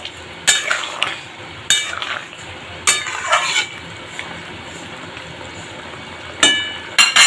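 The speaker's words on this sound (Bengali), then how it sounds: "ভালোভাবে মিশিয়ে নেব মশলাটা।" Roasted, ground spice mix being stirred into a simmering curry in a pan, with a few separate bursts of scraping and clinking from a spoon against the pot between quieter stretches of low sizzling.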